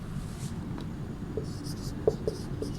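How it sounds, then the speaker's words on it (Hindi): A pen or pencil writes out a question in a Hindi class, soft close scratches and a few small taps in short strokes over a low background hum. "अब यहाँ पर हम लोग 5वां प्रश्न लिखेंगे"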